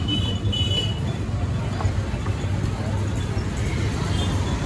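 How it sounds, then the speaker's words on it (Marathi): Steady road traffic rumble heard from inside a moving car in heavy traffic during a Ganpati immersion outing, a continuous low drone with a faint engine hum and distant street babble, no clear speech. "खूप ट्रॅफिक आहे ब्रो."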